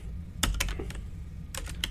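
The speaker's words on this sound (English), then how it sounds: "this game is all played by typing." Commands typed on a computer keyboard while playing the video game Duskers, two quick bursts of clicking keystrokes separated by a pause, close and clear over a low hum.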